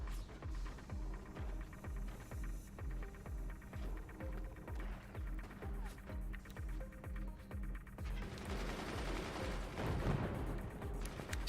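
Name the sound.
machine gunners firing in Forts RTS, from a video game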